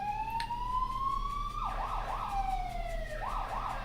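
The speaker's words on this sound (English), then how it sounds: "There's a fire engine in the background" Fire engine siren wailing in the background, rising tones then rapid sweeping yelps, steady and fairly distinct over low traffic rumble.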